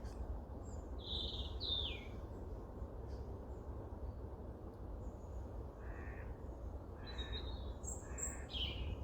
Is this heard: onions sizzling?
no